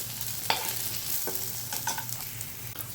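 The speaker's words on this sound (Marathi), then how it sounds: "त्यामध्ये आपण हे सगळे मसाले टाकून देऊया आणि हे देखील छान असे परतून देऊ." Spices for a Maharashtrian soybean rassa stir-fried in a pan, a steady close sizzle broken by several sharp scrapes and clinks of the stirring spoon, with no talking.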